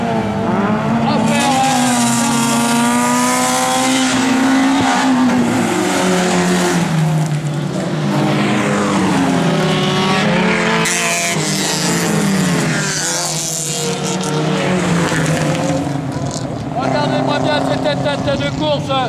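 Autocross race cars in a 2012 event at Vaudelnay roar past with steady engine drone and rising revs, loud and continuous, under an excited commentator talking throughout.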